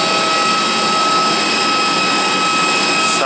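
A loud, steady whine of an airplane's engines on the tarmac during boarding in Siem Reap, Cambodia, a constant high-pitched drone with a dense hiss that holds unbroken throughout.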